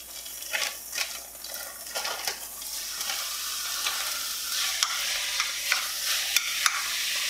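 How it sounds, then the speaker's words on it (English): Ground beef browns in a pan with sauteed peppers and onions. A steady close sizzle is broken by frequent scraping and clinking stirs, and the sizzle grows fuller as it goes on. "I'm going to brown my ground beef"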